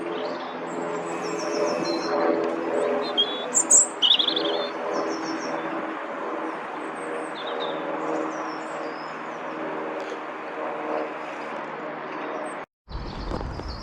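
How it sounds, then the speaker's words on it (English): A robin sings on a woodland walk at the Leasowes in Halesowen, its bright chirps and trills standing out above a steady outdoor hum for most of the stretch, fairly close. "it's lovely seeing that robin, especially how it come close to me."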